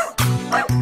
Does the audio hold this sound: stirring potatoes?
no